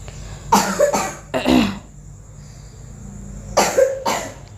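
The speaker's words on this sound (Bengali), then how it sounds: "কত কাশছে" A feverish, sick child coughs in two close bursts of several harsh coughs, a short one between, separated by quiet pauses.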